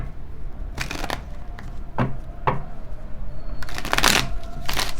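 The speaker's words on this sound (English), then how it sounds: "A few shuffles for you." Tarot cards are shuffled in a few short bursts of riffling and tapping, with brief pauses between them and faint outside noise behind, no voices.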